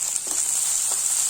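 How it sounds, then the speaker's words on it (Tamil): Onions and chillies sautéing in a pan for rava kichadi, giving a steady, close hiss of sizzling oil with faint stirring scrapes. "இப்போ இதை நல்லா வதக்கிக்கலாம்."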